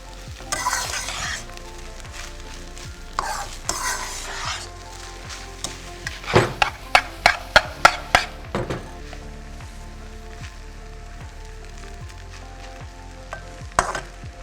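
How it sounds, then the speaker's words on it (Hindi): Rice with green onions stir-fried in a pan, sizzling steadily with bursts of clinking and scraping as it is tossed and mixed, a quick run of sharp strikes in the middle and another near the end. "Give it a quick mix."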